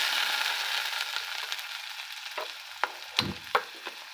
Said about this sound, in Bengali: এভাবে চালাবো, পেঁয়াজটা খুব সুন্দর করে ভাজবো